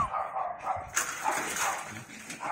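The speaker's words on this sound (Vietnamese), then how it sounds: "Chó quá trời chó." Several dogs on a Vietnamese farm bark, yip and whimper excitedly at fairly close range during a Tet holiday visit, in short overlapping bursts.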